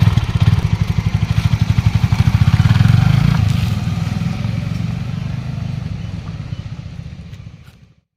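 A TVS Apache 160 4V motorcycle engine thrums loud and close with a steady rapid pulse while riding, gradually fading out at the end.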